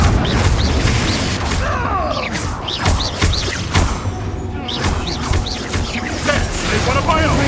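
Confringo fire-blast spell explosions in the video game Hogwarts Legacy during a fight in a camp: repeated booming thuds and crashing bursts amid busy combat noise, with a voice calling out over the action.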